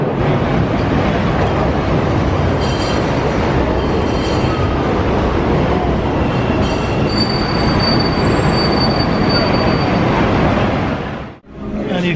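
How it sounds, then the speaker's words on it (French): Chicago elevated metro train running on its tracks, a loud continuous roar with high squealing wheels and rattling cars, heard from on board until it briefly drops away near the end. "Sur le réseau aérien du métro de Chicago"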